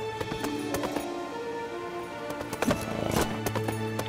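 Horse hooves clip-clopping in the King's Quest video game, a run of brisk hoof steps over a sustained musical background, with a louder flurry of hoofbeats near the end.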